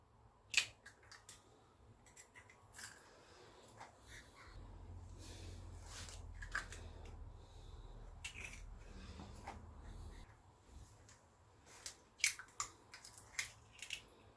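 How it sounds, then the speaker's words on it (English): Three eggs cracked one after another into a bowl while making chicken parmesan. Sharp, close cracks and small wet taps come near the start and in a quick cluster near the end, with a quiet hum between and no talking. "I'm going to crack 3 eggs into a bowl"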